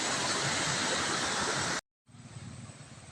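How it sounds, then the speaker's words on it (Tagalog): Strong water pours over an irrigation drop in a loud, steady rushing roar that cuts out abruptly, then resumes somewhat quieter and more distant. "Ayan po, lakas po ng tubig."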